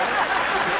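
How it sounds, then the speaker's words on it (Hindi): Brief dense burst of audience clapping at a Hindi comic poetry recital, a steady hiss of many hands with no distinct individual claps. "ताली बजती है यार"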